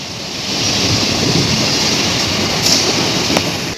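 A train passes close by, a steady loud rumble of wheels and rushing air that fills the whole stretch with no clear start or end.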